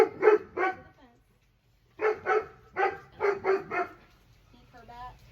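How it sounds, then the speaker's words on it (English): A dog barking in close, loud bursts: two quick barks, a pause, then a rapid run of four or five barks and a softer whine or yip at the end, heard during a nail-trimming session. "There's a dog coming."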